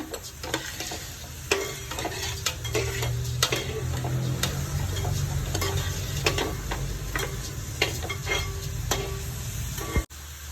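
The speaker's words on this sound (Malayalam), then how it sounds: "നല്ല അരിയും നന്നായിട്ടൊന്ന് മൂത്ത് കിട്ടണം അതുവരെ ഒന്ന് വറുത്ത് കൊടുക്കണം" Rice roasting in ghee in a pan for ghee rice, a steady soft sizzle with repeated ticking scrapes of a stirring spoon against the pan, close and alone without talk.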